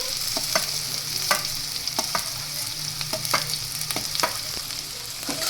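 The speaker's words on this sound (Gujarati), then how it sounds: "હવે ડુંગળીને આપણે થોડી વાર માટે ચડવા દેશું." Onion frying in hot oil with garlic and ginger paste, a constant sizzle broken by repeated scraping stirs of a spoon against the pan, close and steady with no voices.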